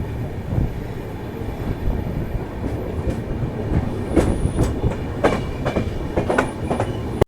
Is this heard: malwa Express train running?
yes